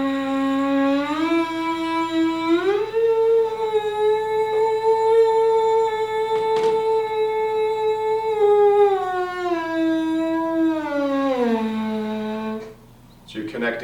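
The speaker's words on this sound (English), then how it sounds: "If you can buzz it on your mouthpiece accurately" A brass mouthpiece buzzes a sustained pitch that slurs up to a higher note, holds, then slides back down, with a short click near the end.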